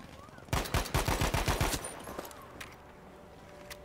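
A gun fired in Battlefield 5 lets off a quick burst of about eight loud, evenly spaced shots, then fades into quieter background rumble and a few faint distant pops.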